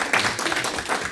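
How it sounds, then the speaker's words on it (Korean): A church congregation gives a round of applause in thanks to a visiting missionary: a dense, steady patter of many hands clapping together, filling the whole moment at an even level. "다시 한번 우리 감사의 박수 한번 드립니다"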